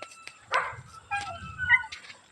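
A dog on a mountain gives a few short yips and whimpering barks, close and moderately loud, spaced out with quiet gaps between.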